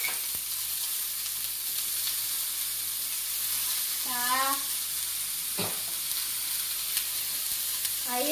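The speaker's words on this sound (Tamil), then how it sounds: "அந்த பாப்பிங் சவுண்ட் பாருங்களேன் எப்படி இருக்குன்னு. அது கடுகு வந்தது குக் ஆயிடுச்சுன்னா அது தெரிக்கிறது நிறுத்திடும்." Mustard seeds crackling in hot oil for Chettinad kuzhi paniyaram, a continuous bright sizzle with faint scattered pops throughout.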